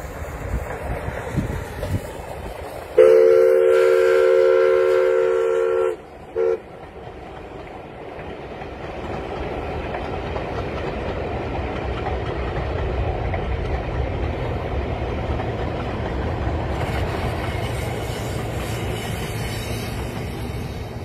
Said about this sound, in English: There should be a train coming around over there, steam train.